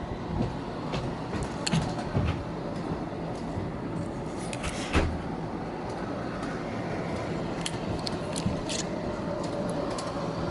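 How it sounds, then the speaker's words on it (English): An MTH model trolley runs along a toy train layout track, giving a steady close mechanical rumble with light rail clicks throughout, no voices. "There goes the MTH trolley."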